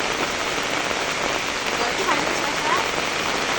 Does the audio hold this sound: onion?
no